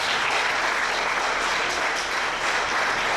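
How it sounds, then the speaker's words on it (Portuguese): Loud, dense applause from a church congregation during a Portuguese-language sermon, continuous clapping filling the whole moment without a break. "Uma salva de palmas para Jesus."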